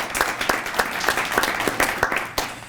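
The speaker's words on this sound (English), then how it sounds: "And let's give Policy Bridge another round of applause." An audience at a press conference gives a round of applause, a fairly close, brisk patter of many hands with individual sharp claps standing out.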